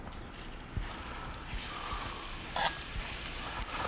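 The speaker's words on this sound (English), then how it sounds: "First thing we're going to do is saute the garlic." Garlic sautés in hot oil in a pan, stirred with a spatula, for a one-pot Filipino pancit bihon noodle dish: a steady close sizzle with occasional scraping taps of the utensil.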